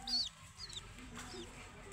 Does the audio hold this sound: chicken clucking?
yes